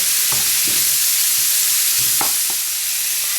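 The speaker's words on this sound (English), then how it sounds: "can add some butter too. And I'll chuck in the bacon. Get that cooking." Bacon fries in butter in a pan, a loud close sizzle that holds steady while a handful of utensil taps and scrapes land at irregular moments.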